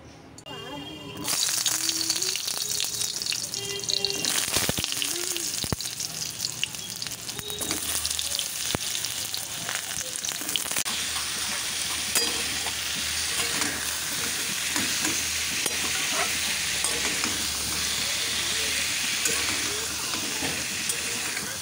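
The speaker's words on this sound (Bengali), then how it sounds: "আমি ভাবছি এগুলো কেটে নিয়ে তরকারিটা আগে চাপিয়ে দিই" Vegetable curry fries in a pan and is stirred in a home kitchen, giving a steady close sizzle and hiss with scraping stir sounds that run throughout.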